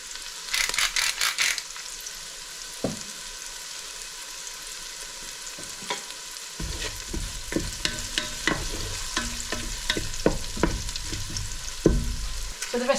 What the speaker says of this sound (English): I'm just going to add the onions. And cook these until soft and golden.